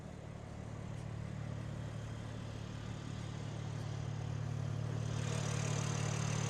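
A 2026 BMW M2 with its S58 3-liter inline-6 turbo engine idles steadily, a low, even hum that swells slightly louder toward the end, with no talking.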